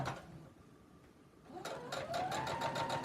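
Sewing machine stitching a beach tote, starting quiet and then breaking into a fast, even run of needle strokes that stays close and steady to the end.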